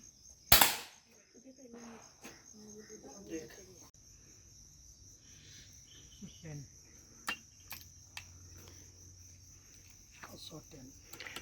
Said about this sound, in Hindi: पहला शॉट